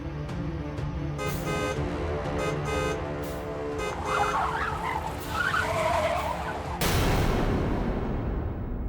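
A car brakes hard and skids to a sudden stop in a busy street scene, tires squealing loudly for several seconds with a burst of noise near the end, layered over dramatic background music.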